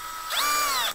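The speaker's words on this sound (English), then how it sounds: "So I actually have a screwdriver that we'll tighten them up all the way with." A screwdriver driving a small screw into a wooden board while building weasel boxes, heard as a single close, steady mechanical whir lasting under a second.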